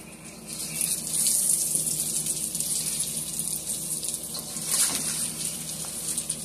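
Water pouring and gushing into a kitchen sink as cooked eggplant is drained, a steady splashing stream at moderate level with slight surges.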